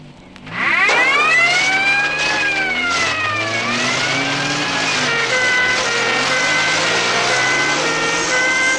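Airfield crash tenders racing to a runway, heard as a loud rising vehicle roar with whining, shifting engine tones that sweep upward and then hold steady, sounding like a dramatized effect.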